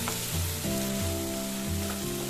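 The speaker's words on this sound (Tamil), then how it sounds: "2 ஸ்பூன் இஞ்சி பூண்டு பேஸ்ட் சேர்த்தாச்சுங்க. சேர்த்துட்டு நல்லா வதக்கிடலாம்." Ginger garlic paste sautéing in a pan, a steady close sizzle with light stirring scrapes, no voices over it.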